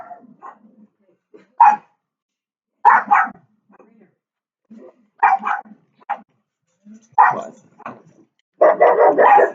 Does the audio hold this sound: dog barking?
yes